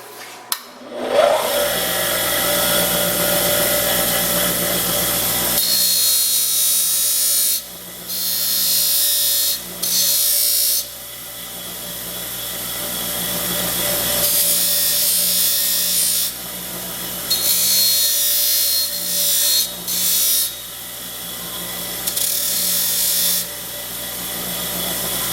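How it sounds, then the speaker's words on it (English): Deburring a freshly cut steel part for a toe jack, a loud rasping, grinding scrape running in long strokes with brief pauses between passes, close and alone without talk. "I'm going to deburr this"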